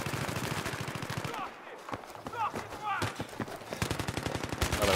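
Rapid bursts of Battlefield 3 gunfire crackle loudly, pausing briefly midway before resuming in fast automatic volleys.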